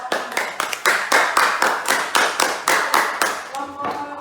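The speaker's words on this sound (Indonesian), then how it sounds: "Beri tepuk tangan untuk kelompok" A class of students claps for a group after a classroom presentation, a loud, dense round of applause with quick rhythmic beats that holds for several seconds, fading as a voice begins near the end.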